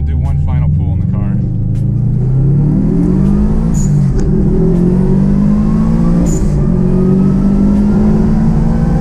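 A Subaru GC8 stage rally car revs and pulls hard through the gears, its loud, close engine note climbing, dropping at the shift, then climbing again.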